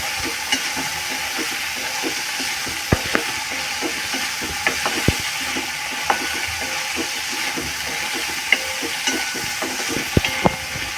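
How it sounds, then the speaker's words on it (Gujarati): Cauliflower and potato pieces are stirred in a hot pan for vegetable pulao: a steady bed of frying sizzle runs throughout, punctuated by irregular sharp clicks and scrapes of the spoon against the pan, with no talking. "ફ્લાવરને બટેકાને આવી રીતે કન્ટિન્યુ હલાવતા રહેવાનું, નહીં તો એ ચીપકી જાય."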